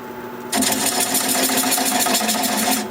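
A wood lathe spins at 400 RPM as a 3/8 inch standard grind bowl gouge cuts away the tenon on a bowl. A steady, close whirring drone with a scraping cut kicks in after a short quiet start and runs unbroken until just before the end.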